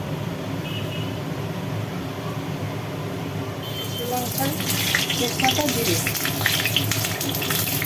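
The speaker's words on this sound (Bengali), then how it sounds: "তেলের মধ্যে দিয়ে দেওয়া হলো জিরে শুকনো লঙ্কা আর একটা তেজপাতা আর দিয়ে দেওয়া হলো কেটে রাখা পেঁয়াজ" Cumin, dried red chili, a bay leaf and chopped onion hit hot oil left from frying potatoes, a steady low frying hiss that swells into a louder, crackling sizzle partway through, with some faint background voice.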